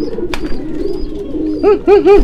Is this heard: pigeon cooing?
yes